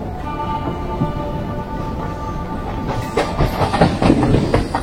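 The Santragachi–Digha local train rolls along at steady speed, a continuous rumbling drone that turns into louder rhythmic clickety-clack of wheels over rail joints in the last couple of seconds.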